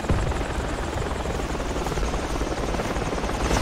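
In the military game Project Reality, a helicopter roars steadily and loudly, a dense unbroken rotor and engine drone that runs nearly the whole time without a break.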